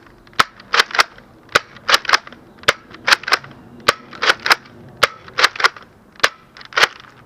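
Nerf Modulus Tri-Strike blaster firing foam darts, a series of sharp, close snapping shots in uneven bursts of one to three, about two dozen pops over several seconds with a quiet rattle between them.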